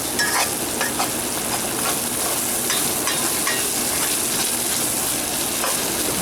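Curry powder mixture for Guyanese-style egg curry cooks in a pot with a steady, close sizzle and frying crackle, plus occasional stirring scrapes throughout, with no voices.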